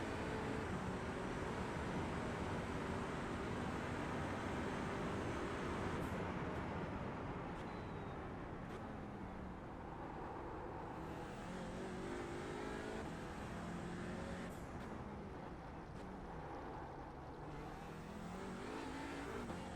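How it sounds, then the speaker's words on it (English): Old Porsche Cup race car engine lapping the Nürburgring in a racing video game, a continuous loud raspy roar with repeated revving rises and gear-change dips, accompanied by tyre and track noise. "Old Porsche Cup car at Nords."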